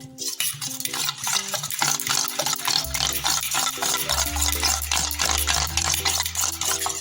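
A batter made from banana tree bark is beaten fast in a bowl, a close, busy run of rapid whisking strokes that tap and scrape the bowl under steady background music, with no talking.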